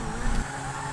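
Engine of the Cheetah supercar in GTA V, a steady loud droning roar like a muscle car, with a brief swell early on.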